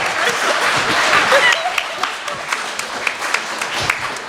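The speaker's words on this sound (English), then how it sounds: "You guys are supposed to clap right now." Audience applause breaking out and then thinning to scattered claps while a speaker keeps talking over it, fairly loud and close at first.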